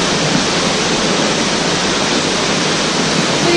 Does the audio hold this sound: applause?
no